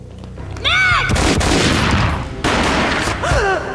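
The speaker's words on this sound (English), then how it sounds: "A gunshot boomed and she fell down in slow motion." Gunfire from the video game Max Payne: a loud burst of several rapid shots with heavy booming tails, a second blast partway through, and strained vocal cries at the start and end.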